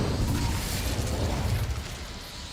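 An Incendio fire spell is cast in Hogwarts Legacy, a brief loud whooshing burst of flame with a low rumbling roar that holds steady, then fades slightly toward the end.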